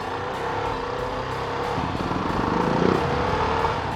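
CFMOTO 300SR motorcycle ridden on a road in Dhaka, a steady engine drone with rushing wind noise throughout, swelling slightly midway with no talk.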